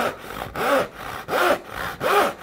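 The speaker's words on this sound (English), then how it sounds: "when you're sawing, you want to almost not have any pressure on the saw handle at all" A hand saw cuts wood for a dovetail joint in steady, gentle back-and-forth strokes, about four rasping passes heard up close and alone.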